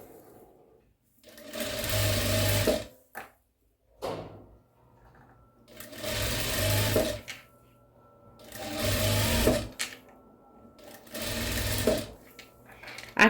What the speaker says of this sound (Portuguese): E daí, nós vamos costurar aqui, ó. Meio pezinho de máquina.